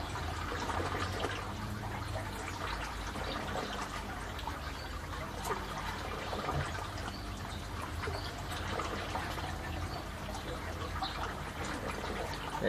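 Steady rushing water pours from a high-capacity pump into an aquaponics tank fitted with a bell siphon, a continuous broadband gush that holds at an even level throughout with no voices.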